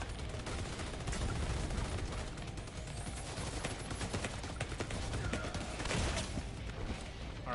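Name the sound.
gunfire from the video game The Division 2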